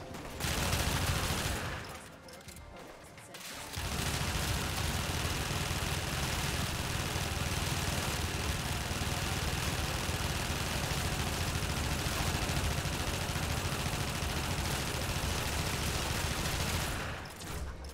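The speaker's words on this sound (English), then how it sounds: "Out here shooting bullets, my dude." Sustained, dense gunfire from Warframe, a loud continuous rattle of shots with a brief pause early on before the firing resumes and runs almost unbroken.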